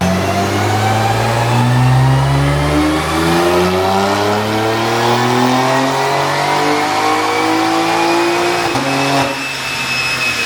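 A BMW G82 M4 engine revs hard and steadily on a dyno for several seconds, pitch climbing then dropping, very loud and close, with a brief dip near the end.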